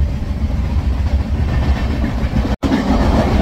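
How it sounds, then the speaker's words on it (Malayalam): A train runs along the Konkan railway, heard from inside as a loud, steady rumble with rhythmic wheel clatter, briefly cut by a momentary gap before resuming. "ഇതാണ് കൊങ്കണിലൂടെ നമ്മുടെ വണ്ടി ഇങ്ങനെ പോയിക്കൊണ്ടിരിക്കുന്നത്."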